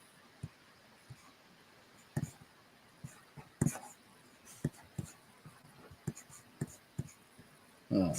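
A pen scratches across paper in short strokes and taps, close and quiet, irregular pauses between strokes as someone writes by hand, with faint breathy sounds in the background.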